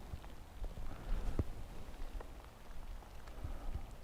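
Rain falls steadily beside a flooded river, a soft continuous patter with scattered heavier drops close by.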